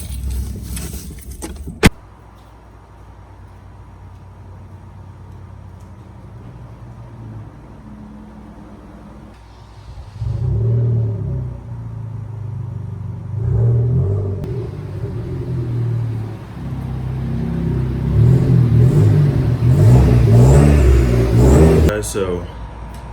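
Hyundai Genesis Coupe fitted with a Mishimoto front-mount intercooler starts with a key jangle, idles low, then its engine rumbles and revs in rising swells inside the car during a test drive, with people talking over it.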